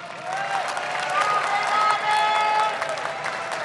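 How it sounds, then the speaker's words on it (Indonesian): A debate audience at the East Java gubernatorial election debate applauds all the candidate pairs. The clapping swells and is mixed with crowd noise and sustained musical tones, with some voices underneath. "Waktunya memberikan tepuk tangan untuk seluruh pasangan calon."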